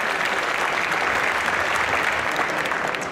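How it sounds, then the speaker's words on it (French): Steady, dense applause from a tournament crowd at the Stunfest 2015 Super Street Fighter 2X final, filling the space evenly for several seconds without letup. "Allez, on l'applaudit très fort, Zaghi."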